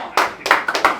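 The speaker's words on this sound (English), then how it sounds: "Round of applause for the greatest free kick I've ever seen in the red and black" A few people clap in quick, sharp, close bursts after an amateur cup football match.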